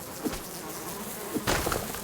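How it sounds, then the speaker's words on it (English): Bees buzz close and loud in a continuous drone as they chase the player in the survival video game Subsistence, with brief thumps in the mix and no talking. "with the bees chasing us"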